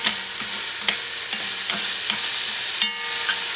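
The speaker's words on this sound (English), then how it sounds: "I'm going to mix them around for a few seconds, so you don't want the garlic to burn" Garlic sizzles steadily in a hot frying pan while a spoon stirs it, with sharp scraping clicks and knocks landing at irregular intervals over the constant frying hiss, close and moderately loud, no voices.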